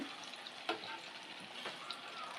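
Cabbage pakoras fry in hot oil after being flipped, with a continuous soft sizzle and a few scattered crackles and stirring clicks, close and quiet, no voices.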